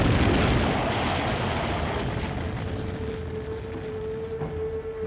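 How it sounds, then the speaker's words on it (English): A car bomb packed into a parked Volkswagen goes off by remote-controlled detonator, a loud broadband blast that rumbles and roars continuously for several seconds, slowly easing off without fading out. "A remote-controlled detonator sets off the explosion."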